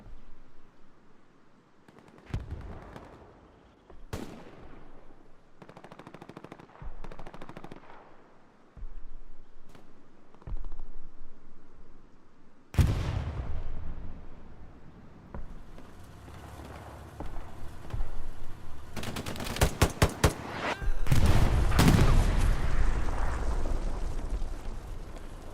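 Machine gun fire in the Hell Let Loose battle at Omaha Beach comes as scattered distant shots and bursts, building to heavy rapid automatic fire amid explosions and rumbling battlefield noise.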